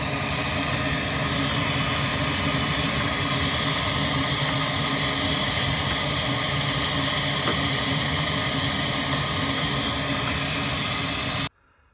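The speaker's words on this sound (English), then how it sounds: "get them sucked into the shop vac" Shop vac vacuuming dust out of a Gen 2 Toyota Prius hybrid battery cooling fan: a loud, steady, close roaring whoosh that holds constant throughout, then cuts off abruptly at the end.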